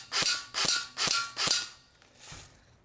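Airsoft gun shots hitting a can: four sharp, evenly spaced snapping cracks with a metallic ring, then a fainter fifth shot, close and clear with no talking.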